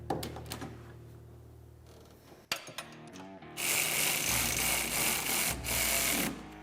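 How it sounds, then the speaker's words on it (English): Rack and pinion bolts being tightened on a Polaris RZR XP Turbo: a few clicks and taps, then a loud, steady mechanical whir, likely a power tool, runs to the end. "go ahead and fully tighten your hardware for your rack and pinion"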